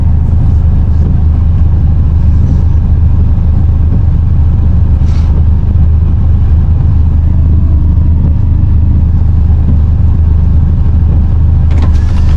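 A VW Golf GTI's engine pulls hard on a late-night drive, heard from inside the car as a loud, continuous low drone with road rumble.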